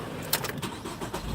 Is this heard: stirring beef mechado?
no